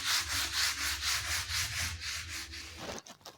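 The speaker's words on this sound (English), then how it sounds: "I have cleaned the tawa prior to use with mild detergent using plastic scrubber" A plastic scrubber rubs back and forth across a cast iron dosa tawa with mild detergent, a close, even series of about nine rhythmic scratchy strokes, ending with a short clatter.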